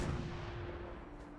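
Grenade blast in the video game Fallout 4, a single low, rumbling explosion that fades out over a second or so, heard alone with no talk.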